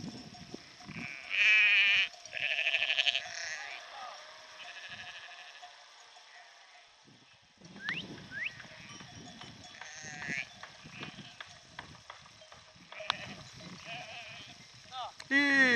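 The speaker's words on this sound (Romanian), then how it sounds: "O turbat oile." A flock of sheep bleating repeatedly, some calls loud and close and others farther off, while people talk in between.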